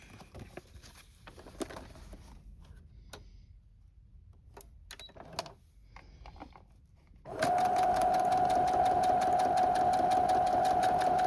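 Quiet handling and scattered taps give way partway through to a sewing machine starting up, running loud and steady with a fast rhythmic needle clatter while stitching pockets on a handmade journal.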